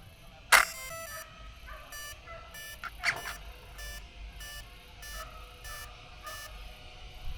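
A run of short electronic beeps in a steady rhythm, fairly faint over a low background hum, with one sharper click near the start.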